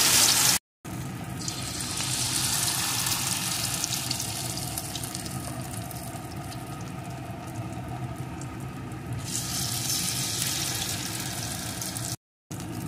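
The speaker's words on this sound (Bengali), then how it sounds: "এখন এগুলোকে এপিটোপিট করে লাল লাল করে ভেজে নেব।" Spoonfuls of cabbage mixture fritters fry in hot oil with a steady, dense, close sizzle that continues without pause, cut only by two short silent gaps.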